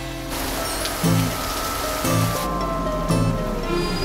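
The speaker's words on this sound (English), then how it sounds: "Here comes the rain." Steady rain falls in a dense, hissing wash, with a few low thumps recurring about once a second beneath it, in a Postman Pat cartoon.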